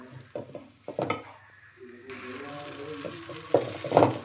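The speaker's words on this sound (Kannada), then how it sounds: "ನೋಡಿ ಎಷ್ಟು ಚೆನ್ನಾಗಿ ಫ್ರೈ ಆಗ್ತಾಯಿದೆ ಅಂತ" Okra frying in a pan for a dry palya, a steady close sizzle that swells partway through, with scattered spatula scrapes and clinks of the pan.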